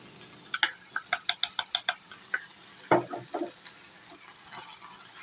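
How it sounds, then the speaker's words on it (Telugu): A spoon scrapes and knocks rhythmically against a pan as sesame powder is stirred into a tomato curry, a quick run of about a dozen sharp clinks followed by a few softer scrapes, close and clear with no talk. "నువ్వుల పొడి వేసి చక్కగా అటు ఇటు తిప్పేసాను"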